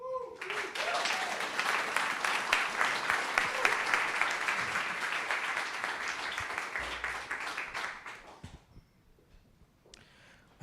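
An audience applauds after an awards pitch, a dense burst of clapping that holds for several seconds and then fades out, with a voice heard faintly near the start.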